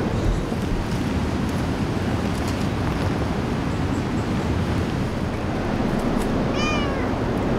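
A small cat gives one brief meow near the end, heard faintly over steady wind and surf noise in the Kalalau valley.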